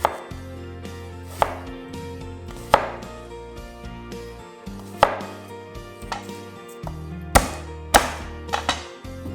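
Ginger and garlic being chopped with a knife on a board: a run of sharp, close knocks at an uneven pace over a sustained musical backing, with no talking.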